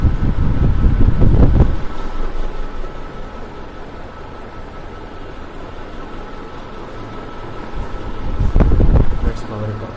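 Brown 1990s Crompton Greaves Dec Air four-blade 48-inch ceiling fan with a wobble, running at speed with a steady whooshing airflow hum and occasional gusty buffeting close to the microphone.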